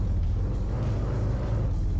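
A car in the Thief Simulator VR video game drives off with a steady low engine rumble that holds at an even level for a couple of seconds, with no voices over it.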